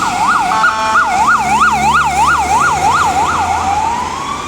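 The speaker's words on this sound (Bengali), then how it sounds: "এখন হচ্ছে একটা অ্যাম্বুলেন্স যাচ্ছে দেখুন" An ambulance siren wails through road traffic, loud and close, its rising and falling tone repeating steadily before sliding upward at the end over a continuous hum of vehicles.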